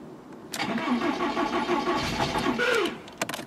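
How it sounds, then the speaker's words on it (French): A Volkswagen Polo engine with an ignition fault and freshly repositioned ignition wires cranks after a short pause, then catches and runs unevenly for about three seconds before a few sharp clicks, close and loud. "Allez, tentative de démarrage."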